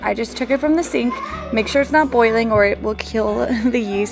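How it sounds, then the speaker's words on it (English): Children's voices and play noises drift in the background of a home kitchen where einkorn brioche dough is being made, running steadily beneath an adult woman's close, continuous talking. "I also apologize if you can hear children in the background."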